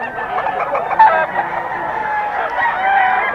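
A Sweater crossed with Kelso gamefowl rooster crows loudly and close, one long drawn-out call that fills the whole moment.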